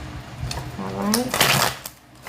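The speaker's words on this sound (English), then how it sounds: "Let me do one more shuffle and we split the card." A deck of cards is riffled and shuffled close up in a few quick bursts, with a person talking over the shuffling.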